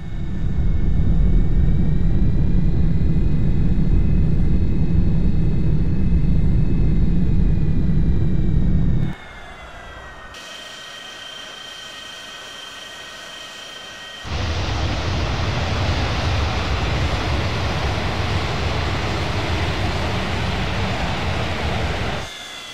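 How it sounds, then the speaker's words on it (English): Simulated jet engine thrust reversers in the Prepar3D flight sim, heard as a loud, steady roaring rumble that drops off sharply midway, then returns at a slightly lower level and holds to the end, with no talking. "Now let's test both reversers together."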